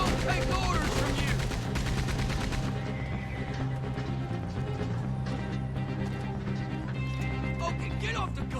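Gunfire in Red Dead Redemption 2 during a wagon robbery: repeated rapid shots and bursts over the clatter of horses and a neighing horse, with shouting voices layered throughout.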